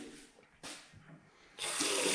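Cold water runs from a washbasin tap in a newly fitted bathroom, starting and stopping in short bursts before a strong steady gush fills the end, close by.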